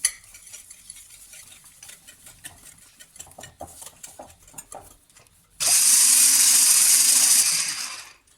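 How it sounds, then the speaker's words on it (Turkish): Eggs and sugar whisked together in a mixing bowl for a Ramadan menu recipe: scattered light clinks and taps at first, then a loud, steady, continuous whirring buzz of rapid beating that runs for a few seconds before cutting off. "yumurta ve şekerimi güzelce çırptım"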